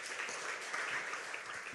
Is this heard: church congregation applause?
yes